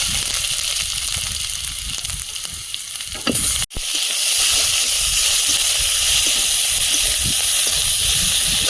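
Dry chilli, bay leaf, five-spice, ginger and garlic fry in oil, giving a loud, steady sizzling hiss with crackles. A sudden sharp clack near the middle is followed by even stronger sizzling, heard close with no talk.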